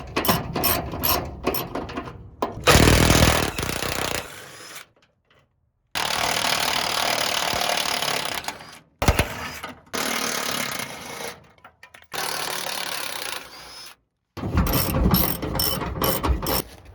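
A ratchet undoing the 18mm bolts that hold a work truck's bed, rapid loud clicking bursts separated by pauses, close by with some metallic clanks between runs.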